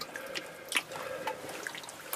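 Water drips inside an underground tunnel, a few sharp separate drops falling close by over a soft, hollow background hush.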